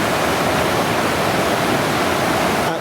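Stream water flowing near a tiny home, a steady broadband rush that stays loud and even throughout, with no talk over it.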